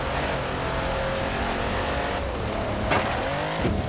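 Racing car speeding downhill in Forza Horizon 4, with a steady loud engine drone, shifting revs and brief tire squeals near the end, continuous with no talking.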